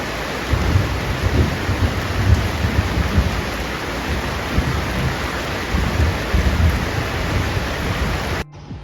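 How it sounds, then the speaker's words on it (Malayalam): Heavy rain pouring down in Saudi Arabia, a dense, loud, continuous roar of falling water with rumbling low undertones, cutting off abruptly just before the end. "ശക്തമായ മഴ വീണ്ടും പെയ്തു"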